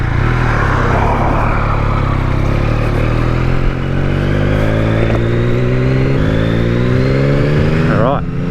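A brand-new Yamaha MT-09 motorcycle engine revs hard and climbs through the gears on a road after a stretch of dirt, loud and close, with rising pitch sweeps and a sharp drop near the end.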